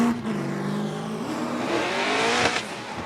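Jack Davis' Deechworks BMW E30 drift car revs hard, its engine note rising and falling as it initiates a drift, with a brief sharp burst near the end.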